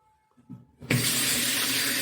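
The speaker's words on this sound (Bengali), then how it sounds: "এই চিড়েটা কিন্তু এবার সুন্দরভাবে একটু জলে ধুয়ে নেবো" Running tap water pouring steadily onto flattened rice (poha) being washed in a bowl, starting with a few soft clicks and then a continuous close rush of water.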